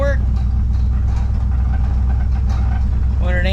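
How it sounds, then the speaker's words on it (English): A van engine idles close by, a loud steady low rumble with a regular throbbing pulse, while someone talks over it. "Van's running good though, guys."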